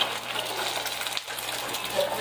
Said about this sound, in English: chuck that egg on there, get it frying up